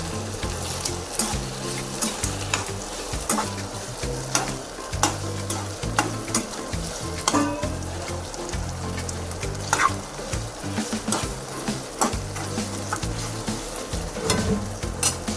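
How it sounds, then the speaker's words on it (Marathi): Chopped tomatoes frying with ginger-garlic paste in a pan for a dry chicken dish, stirred steadily with a spoon. A continuous sizzle carries repeated scraping strokes, with music playing underneath throughout. "ऍड केला आहे टोमॅटो, जो आपल्याला प्रॉपर मिक्स करून घ्यायचा आहे ह्याच्यामध्ये"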